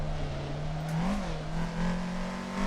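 A Toyota AE86 engine revs on a mountain touge run, with a steady drone that briefly rises and dips as the clutch is kicked, loud and close with no voices.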